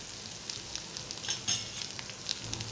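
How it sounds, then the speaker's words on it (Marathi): Vegetables sauté in a pan with grated fresh coconut, a soft, steady sizzle with faint scraping and stirring ticks, quiet and close, with no voices. "ते आपल्याला नुसतं आता परतून घ्यायचं आहे व्यवस्थित आणि 2 मिनिटं थांबायचं आहे"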